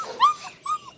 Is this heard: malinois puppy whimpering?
yes